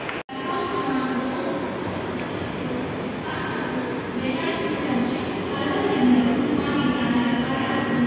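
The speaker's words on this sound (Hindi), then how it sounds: "आमची ट्रेन आली, चला." A train pulling into a suburban railway station near Thane, a steady rumbling rail roar that swells gradually, with no clear voices over the noise.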